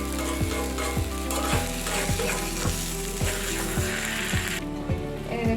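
Beef brain fries in a pan with a loud, continuous sizzle up close, punctuated by regular clicks as it is stirred at a steady rhythm.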